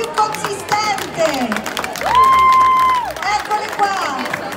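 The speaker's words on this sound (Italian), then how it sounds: "Però voglio sentire un applauso molto più consistente." Audience applause and crowd noise at a dinner for the Facchini di Santa Rosa in Italy, a loud, continuous wash of clapping throughout, with a brief steady tone rising above it midway.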